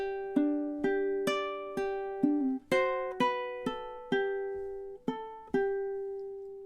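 Measures 7 and 8 of a song played on ukulele, a steady run of about a dozen plucked notes and chords that ring and decay in turn, close and unaccompanied.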